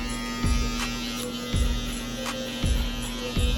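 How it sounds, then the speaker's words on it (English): Electric hair clippers run with a steady buzzing hum, used clipper over comb during a low bald drop fade, with soft cutting passes that repeat roughly once a second near the scalp. "I like to use clipper over comb."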